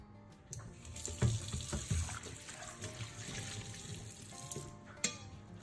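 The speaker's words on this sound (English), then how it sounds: "Rinse with warm water and dry the pan thoroughly." Water runs steadily from a tap, splashing and trickling against a metal surface, with a few soft knocks and clinks along the way.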